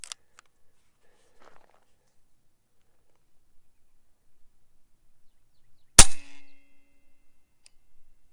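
A single sharp shot from an AEA Element .25 caliber airgun, heard up close and loud in an otherwise quiet space, with a brief ringing tail after the report.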